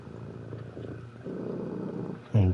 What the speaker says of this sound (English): And purring.